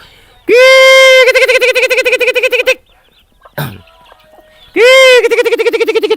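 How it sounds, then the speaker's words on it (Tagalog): Native chickens being rounded up outdoors, heard as loud, close, repeated calls in two strong bursts separated by a brief quiet gap and a short scuffle. "Nagdadatingan ating mga manok."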